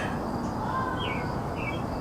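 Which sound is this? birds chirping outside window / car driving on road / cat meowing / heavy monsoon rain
birds chirping outside window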